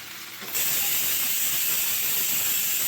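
Curry leaves dropped into a hot pan for beef curry burst into a loud, sudden hiss that carries on steadily, no voices.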